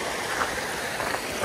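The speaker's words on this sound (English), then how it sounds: "Nice stream here." Mountain stream flowing beside a chilly high hiking trail on Ontario Peak, a constant close hiss and babble of running water, steady and unbroken with no voices.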